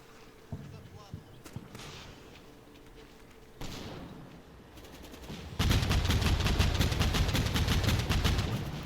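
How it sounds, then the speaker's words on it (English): Gunfire from a BTR armored vehicle in the Combat Mission Black Sea war game, scattered single shots and a louder blast, then a sustained rapid burst of heavy automatic fire that dominates the final seconds. "BTR provides covering fire"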